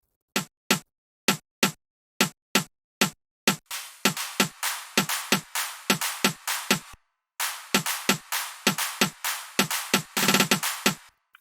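Electronic drum pattern in FL Studio for a dance-music drop: evenly spaced sharp hits at first, then a busier layered rhythm of punchy percussion, a brief pause, and a dense roll near the end, all clean and close with no talk.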